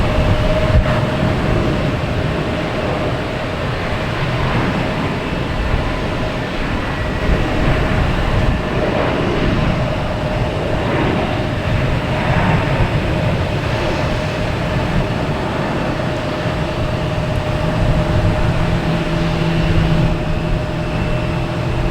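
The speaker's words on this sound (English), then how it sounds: "we got the Lufthansa A340" A Lufthansa Airbus A340 jet departs Boston Logan Airport, a loud, continuous broadband roar of jet engines that holds steady throughout with a rushing, turbulent texture and no speech.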